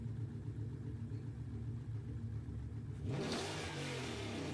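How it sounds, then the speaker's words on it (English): A Ford Mustang in Gran Turismo 7 idles with a low, steady rumble, then its engine suddenly revs up hard and loud near the end. "That's the Mustang."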